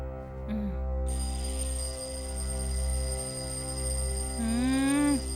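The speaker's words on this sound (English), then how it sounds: "Mitra, alarm is ringing. Put it off." An alarm clock rings indoors with a sustained tonal ring that runs through the whole stretch over a low steady hum, with a brief warbling, sliding tone near the end.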